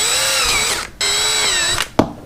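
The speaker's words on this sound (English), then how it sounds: "Let's go ahead and drill 2 holes." A power drill runs at a steady whine while boring holes during a café racer motorcycle seat install, briefly stopping, restarting, then cutting off with a short clunk at the end.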